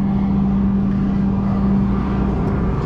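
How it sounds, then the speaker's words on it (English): A container ship on the Brisbane River gives off a steady, loud low engine drone with a constant hum, unbroken from start to finish. "sorry about the noise from this container ship behind me"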